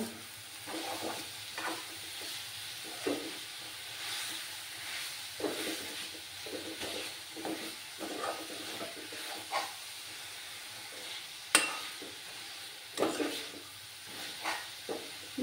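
A spoon stirs a Patisapta pitha mixture in a pan. Sizzling and hissing scrapes come in irregular strokes at a moderate distance, with a few sharper clinks of utensil on metal.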